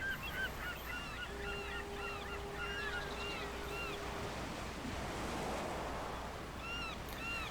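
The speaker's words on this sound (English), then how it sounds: "And you hear the sound of the waves." Video game ocean waves wash steadily along a shore under a broad hiss, while geese honk repeatedly in the distance and a thin steady tone hums briefly.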